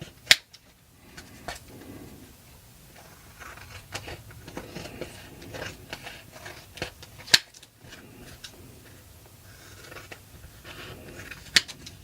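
Scissors snip through a paper doll cutout in a quiet room, with sharp, sparse cuts and soft paper rustling between them, heard up close with no talking.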